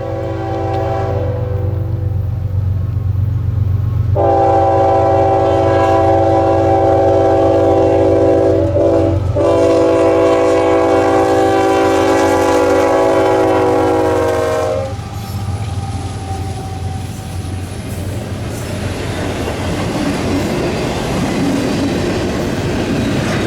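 A Norfolk Southern freight train rumbles past up close, its horn sounding loudly for several seconds over the steady roar and clatter of wheels and locomotive engines.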